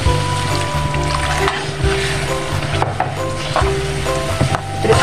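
Water goes into frying chili sambal with onion and prawns in a pan, raising a loud, steady, dense sizzle, with faint scraping and stirring knocks throughout.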